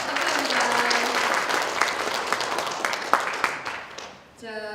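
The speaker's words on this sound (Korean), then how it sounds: "다시 한번 박수로 감사의 박수 마음을 전해드립니다" Conference audience applauding after a city councillor's congratulatory speech, dense sustained clapping that thins out and fades near the end, with a voice speaking over it at the close.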